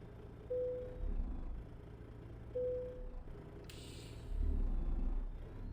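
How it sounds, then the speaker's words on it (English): Parking brake air release on a Freightliner Argosy truck in American Truck Simulator, with a low engine idle rumble underneath and a sharp hiss of air bursting out near the end. "The parking brake sounds"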